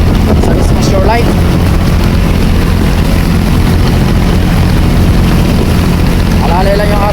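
A motorboat engine drones steadily while the boat runs through strong currents at sea off Isabela, loud and constant with wind buffeting the microphone, and someone talks over it in places.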